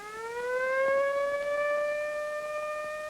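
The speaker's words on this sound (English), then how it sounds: "and turns on the siren." Air raid siren sounding at a 1968 Nike Hercules missile battery as personnel are alerted, a loud sustained wail with a slowly rising pitch and steady harmonics, holding strong throughout with no voices.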